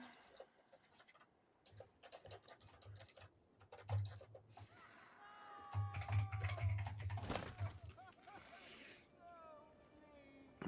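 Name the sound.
loud computer keyboard typing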